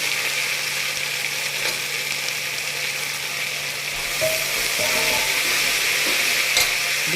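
Hyacinth beans being tipped into a hot oil tempering in a pan for a sambar with potato and brinjal, giving a loud, steady close-up sizzle with a few light metallic clicks and scrapes.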